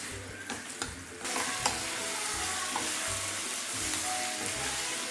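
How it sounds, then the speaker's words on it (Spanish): Chicken and onions sizzle loudly in a pan for Kalyani biryani while a utensil stirs and scrapes in repeated strokes, close up, with no talking. "Y lo vamos a freír cuando el pollo tenga ya colorcito."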